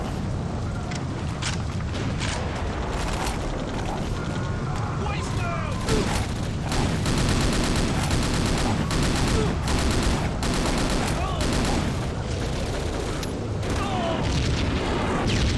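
In the video game Iron Storm, grenade explosions and heavy gunfire sound continuously, with dense bursts of shots and booming blasts. A voice talks over the battle noise.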